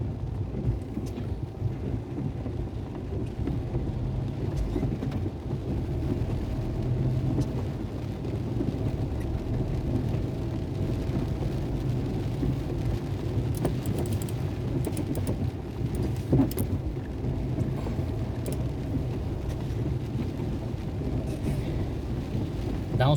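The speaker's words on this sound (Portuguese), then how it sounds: "Dá uns pancadão de chuva" Heavy rain pours down steadily during a prolonged downpour in Vacaria, Rio Grande do Sul, with low rumbling thunder beneath the dense hiss of water. The rain stays constant and fairly distant, with no talking.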